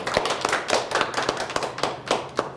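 Scattered hand clapping from an audience at a mentoring lecture, a loose patter of claps spread across the moment with irregular sharper hits, moderately near and not very loud, with no talk over it.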